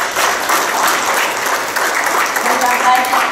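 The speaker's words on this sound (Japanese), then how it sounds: "もう一度、森友子さんに大きな拍手をお願いいたします" Audience applause at a Japanese political gathering with a Diet member, steady dense clapping from a crowd filling the room, loud and sustained throughout.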